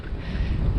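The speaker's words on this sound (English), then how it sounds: "It is really windy actually." Strong wind buffets the microphone in a steady, loud low roar on an exposed West Country road, heard while bikepacking on a Brompton folding bike heading southwest into the prevailing wind.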